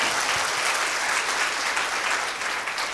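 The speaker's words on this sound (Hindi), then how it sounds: "तालियां बजा के प्रभु का धन्यवाद" A church congregation breaks into applause, dense steady clapping from many hands filling the room for a few seconds with no voices over it.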